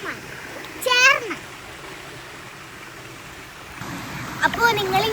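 A steady broadband rush of water flowing through a canal as its level rises, with brief bursts of excited speech near the start and end.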